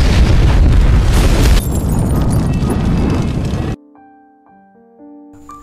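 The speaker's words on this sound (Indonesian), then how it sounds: "Saat mereka berhasil keluar mobil, mobil tersebut pun langsung meledak." A loud, roaring car explosion blasts for several seconds, then cuts abruptly to quiet, sparse electronic tones.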